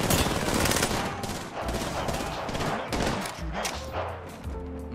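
Sustained gunfire in the battle royale game Apex Legends, rapid bursts and repeated shots close and loud, layered with explosions and game effects throughout.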